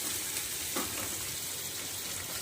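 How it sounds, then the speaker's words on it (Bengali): Chili and sugar frying in a pan with oil for a chicken curry, giving a steady, loud close sizzle that continues without a break, with no talking. "চিনির সঙ্গে এইটা দিয়ে ভেজে নেবো"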